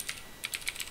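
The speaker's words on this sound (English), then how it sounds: "Just randomly clicking on the keyboard." Quick bursts of random keystrokes on a computer keyboard, about five sharp taps in under a second, close and fairly faint against a quiet background.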